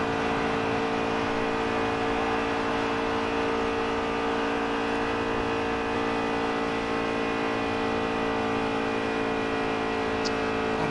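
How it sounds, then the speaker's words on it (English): A race car engine drones at a constant high pitch while running hot laps alone around the Talladega superspeedway, heard from inside as a steady, loud whine and rumble with no break. "we're running little hot laps here by ourselves"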